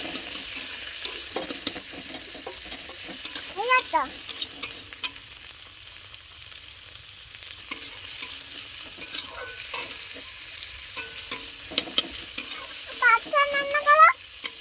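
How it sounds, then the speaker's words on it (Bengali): Green chilli and tomato sizzling in a frying pan while being stirred, with soft steady frying hiss and intermittent scraping strokes of the spoon against the pan, close and fairly quiet. "ঠিক আছে কাঁচা লঙ্কা টমেটো আমি একসঙ্গেই দিয়ে দিচ্ছি এরপর এটা কিছুক্ষণ নাড়াচাড়া করি"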